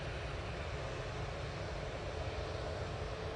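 Ryanair jet on its takeoff roll at Manchester Airport, a steady broad engine roar heard from a distance, constant in level throughout the short stretch.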